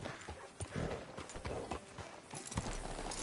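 Horse hooves clip-clop steadily on the ground in the Western game Red Dead Redemption 2, close and clear, a continuous trotting rhythm with faint background ambience.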